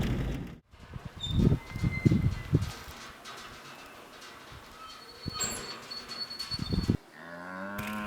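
Cattle low near a watering spot on a farm along the border, several deep drawn-out moos close by, one after another, with quieter rustling stretches in between.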